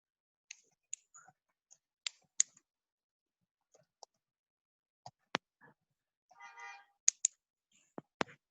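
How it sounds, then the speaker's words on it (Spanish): Someone types lightly on a computer keyboard during an online class. The clicks are sparse and quiet, coming singly and in small clusters with long pauses between them, and there is no voice. "Bájenle el volumen a su teclado porque escucho cómo le dicen"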